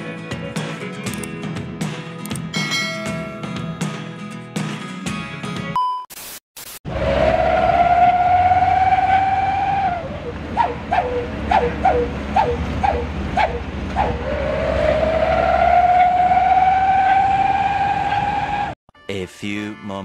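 A garbage truck in Merauke empties its load bed: a rising and falling hydraulic whine, with clanks and rattles in between and a low engine rumble underneath, fairly close and loud.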